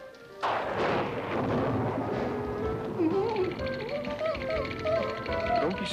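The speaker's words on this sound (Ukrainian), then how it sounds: "Не бійся, друже, це гроза." Thunder from a thunderstorm in a Garfield cartoon opens with a sudden loud crack and rolls on as a low rumble beneath cartoon music and sound effects.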